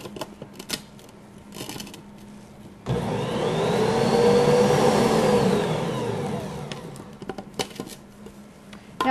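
An electric mixer whirs loudly for about four seconds while it creams gluten-free sugar cookie dough with added eggs in a bowl. Its pitch rises and then falls away, with clatter and tapping before and after.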